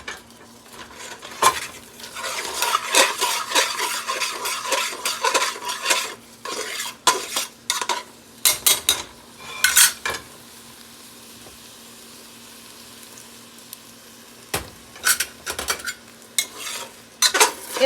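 Mac and cheese dumped and scraped from a pot into a baking dish, with bursts of loud spoon scraping and clanking against metal and glass, separated by quieter pauses and a steady low hum.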